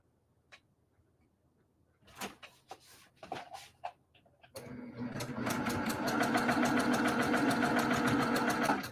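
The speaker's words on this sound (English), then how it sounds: "And now I'm going to sew on the line." A sewing machine stitches quilt fabric pieces, starting after a few sharp handling clicks and taps, then running in a fast steady close mechanical patter to the end.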